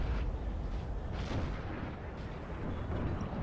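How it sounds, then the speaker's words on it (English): An artillery strike in Napoleon: Total War, a deep, rolling roar of cannon fire and impacts with a swell in the middle, steady and fairly distant, no talk. "Nice artillery strike."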